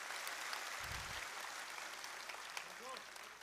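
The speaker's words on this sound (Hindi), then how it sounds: "एक बार जोरदार तालियों से आप सब लोग उनका अभिनंदन करें" Steady crowd applause at a live birth-anniversary ceremony in India fills the whole stretch, a dense even patter of many hands clapping, with a voice faintly underneath.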